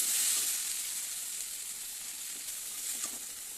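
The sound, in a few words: okra frying in a pan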